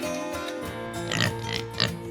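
A pig grunts and oinks in a short series of nasal snorts, close and fairly quiet, with a couple of sharper squeals toward the end.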